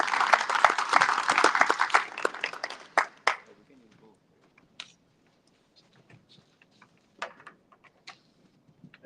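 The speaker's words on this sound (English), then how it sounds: "Let's give another round of applause for Hasi and Michael Bertov of the Innovation Center" An audience at a tech design event applauds loudly for about three seconds, then the clapping dies away into scattered isolated claps and light handling noises.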